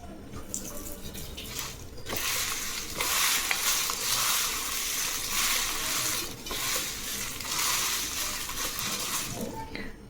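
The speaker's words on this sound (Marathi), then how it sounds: "परत मिक्स करून घेऊ." Potato and semolina chivda tossed with red chilli powder in a pan, stirred with a continuous dry, gritty rustle and scrape that rises and falls in waves, close and fairly loud.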